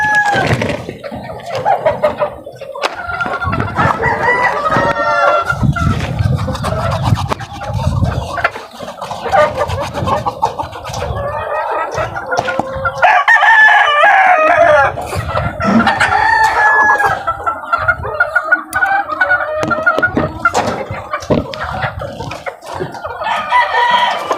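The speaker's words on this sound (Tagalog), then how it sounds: "pagpapakain na ako dito sa aking sisiw na bibistag" Chicks and adult chickens at feeding time fill the air with constant high peeping, clucking and squawks, while a rooster crows now and then, all loud and close.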